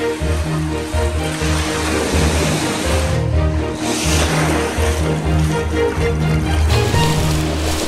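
Sea waves breaking along a fishing shore: continuous surf wash with a swell of breaking water partway through, over a low steady hum, no talk.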